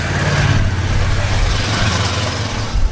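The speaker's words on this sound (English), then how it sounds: "There's a lot of cars and stuff" Loud, steady car and truck traffic rumbles along a busy street in Cochem's riverside old town in Germany, engines droning close by without pause, with a voice faintly audible beneath.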